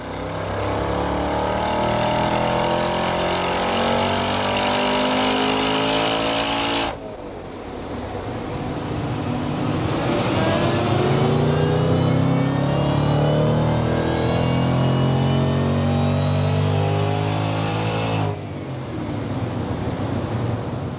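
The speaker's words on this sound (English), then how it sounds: "we've got the car loaded up onto the dyno and we're going to start our tuning session" A supercharged Ford Mustang Dark Horse engine revs hard on a dyno and holds high, droning steadily, dips briefly, then climbs again into a loud sustained roar, close and continuous.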